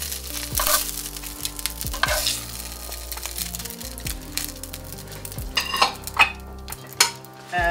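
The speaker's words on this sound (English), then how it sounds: "And now we're gonna lightly brown the chicken." Chicken lightly browning in avocado oil in a very hot skillet, a soft sizzle under repeated clinks and scrapes of a utensil stirring and turning the pieces, close by.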